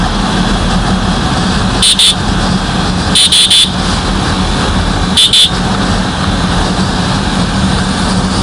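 Yamaha R15M or RS200 motorcycle engine running steadily and close, a continuous rumbling drone with a few brief sharper bursts, no talking.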